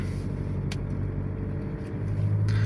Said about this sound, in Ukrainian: тут у нас навчальний автомобіль зараз виїжджає